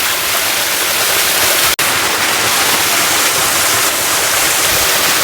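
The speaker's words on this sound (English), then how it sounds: "This is a small waterfall." Small waterfall at Umladang falls in Meghalaya, a steady, loud broadband rush of falling water that fills the whole clip continuously, with a single brief dropout midway and no voices.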